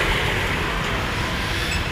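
A loud, steady rumble of an LRT light rail train passing close by near a public market in Pasay, mixed with street noise, with no clear speech.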